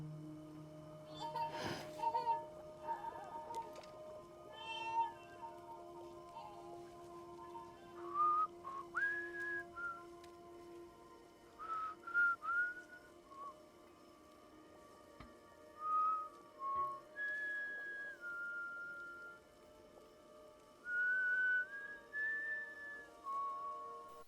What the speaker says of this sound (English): Yeah, I like the Sam can whistle the song back.